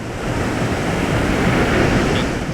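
Ocean surf washes steadily onto the sand at Korle Gonno beach in Accra, a dense continuous roar of breaking waves with some wind, close and fairly loud, with no voices.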